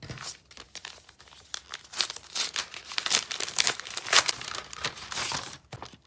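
A heavy paper envelope holding a shareholder mailing is torn and crinkled open by hand, close and uneven crackling, ripping and rustling in bursts over several seconds, with no talk.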